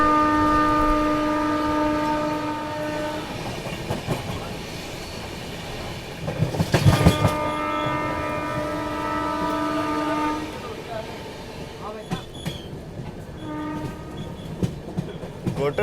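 A passenger train crosses a freight train led by a WG12 locomotive at a station, with loud, steady train-horn tones sounding over continuous rolling rail clatter and a burst of heavier clanking midway.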